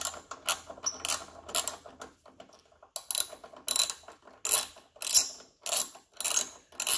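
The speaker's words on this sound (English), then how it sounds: "you just take this little bolt out" A small 10mm bolt holding a car headlight is backed out with a ratchet, producing rapid, close, repeated clicking in short rhythmic bursts separated by brief pauses, with no voices.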